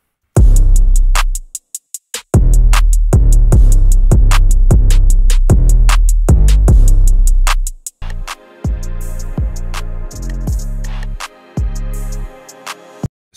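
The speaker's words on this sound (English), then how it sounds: "And all the drums sound together like this." A hip-hop beat programmed in FL Studio, with a booming 808 kick and snare hitting together in a steady, loud pattern. The pattern changes partway through into a denser layered section.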